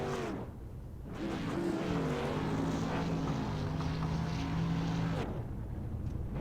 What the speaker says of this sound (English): And Benny Ellison doing a burnout, knowing that he has gotten the series victory in the lights.